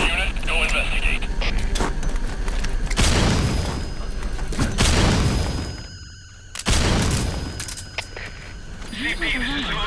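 Booming explosion in the stealth video game Metal Gear Solid V: The Phantom Pain, set on a medical platform, with loud heavy thuds around the middle amid game noise and radio chatter from soldiers.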